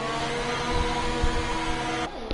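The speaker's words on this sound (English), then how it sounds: "now I can hear the wonderful engines" F1 car engines in an F1 racing game at the Spain GP, a steady high whining drone that cuts off abruptly near the end.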